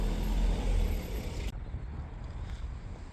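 A black BMW M4 coupé with a faux-carbon kit drives past. Loud, broad engine and road rumble dominates the first half, then cuts to a quieter, fading tail.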